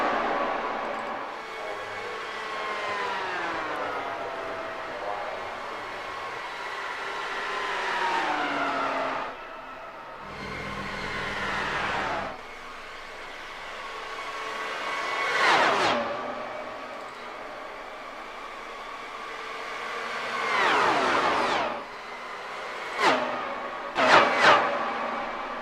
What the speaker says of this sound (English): beautiful sounds of those engines there